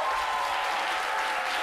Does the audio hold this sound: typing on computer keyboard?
no